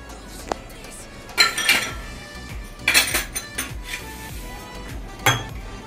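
Flour, salt and oil being mixed in a bowl with a spoon, giving close, irregular clinks and scrapes of metal against the bowl, some bursts louder than others, with no talk.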